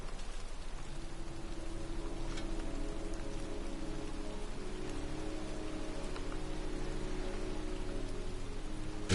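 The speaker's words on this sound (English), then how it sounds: "here I am, standing in a cemetery in pouring rain" Steady, heavy rain falling on surfaces in a cemetery in the video game Heavy Rain, a dense, even patter with occasional sharper drops, continuous throughout with no voices.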